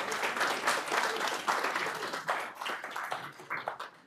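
A conference audience at a BSD community closing session applauds, a steady wash of many hands clapping at moderate distance that thins out slightly toward the end, with no talking over it.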